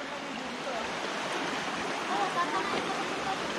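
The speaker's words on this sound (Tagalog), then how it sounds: "malakas yung agos" The strong river current at Eva Eva falls rushes in a steady, fairly faint wash with slight gurgling, unbroken throughout, with no clear voices over it.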